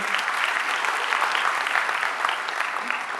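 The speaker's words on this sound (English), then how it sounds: "I don't deserve applause" At a conclave on entrepreneurship, leadership and technology, a seated audience claps steadily and evenly, a full wash of applause with no break.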